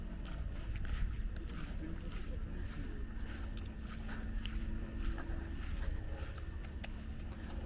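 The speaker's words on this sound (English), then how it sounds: "Oh, look at the horses." Horses at a wet, muddy farm make a soft, irregular clip-clop of hooves and shuffling movement nearby. Steady low outdoor rumble runs underneath, with brief faint sounds mixed in.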